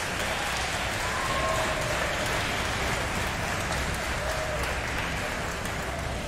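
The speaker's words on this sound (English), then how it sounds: "give them a round of applause, please" An audience at a fall school concert claps in sustained applause, a dense, steady patter of many hands at even loudness for several seconds, with no break and no one speaking over it.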